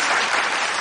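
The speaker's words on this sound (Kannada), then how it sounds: "ಚಪ್ಪಾಳೆ" A studio audience on a televised game show claps in a brief, dense burst of applause, close and fairly loud.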